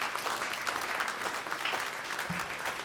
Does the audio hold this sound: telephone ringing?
no